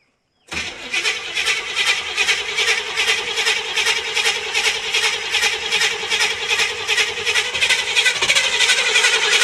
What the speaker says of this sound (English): It's 1976 Jeep CJ5 with a 350 Chevy in it.